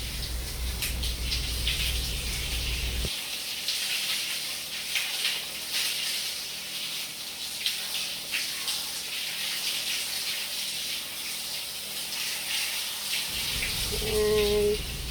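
Tap water runs steadily while something is washed by hand on a tiled floor, a continuous close gush that shifts in tone partway through, with a brief clink near the end.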